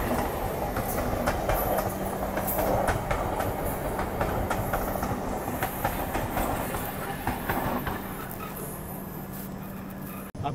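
A train runs along the railway line on a Yesvantpur to Howrah Duronto journey, a steady rumbling roar with repeated rhythmic clacking of wheels over rail joints, heard close and continuous from on board.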